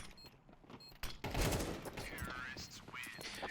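Gunfire erupts in a CS2 match after a quiet start, a burst of heavy shots followed by a busy mix of game sounds. The level stays fairly low, and a voice talks over part of it.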